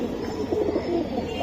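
A begi pigeon gives a short, soft, low cooing call, close by and heard alone for just over a second.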